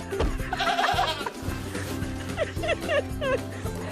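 Dairy goats kept as pets bleat loudly and close by, several wavering cries in quick succession with someone talking over them.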